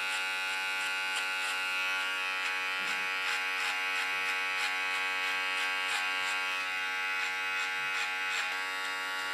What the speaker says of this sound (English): By peeling off some hair from the top. Very gently with my clipper.